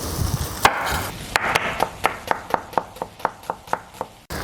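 An onion is chopped on a board for fried fish, with a few irregular knife strikes at first and then a steady run of about a dozen sharp, evenly spaced chops close to the microphone.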